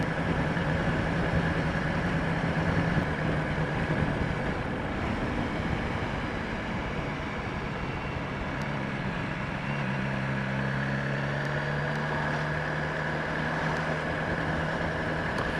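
A BMW S1000XR motorcycle engine under way, a steady mid-pitched drone with a low humming note that shifts pitch partway through as the rider changes speed, no voices.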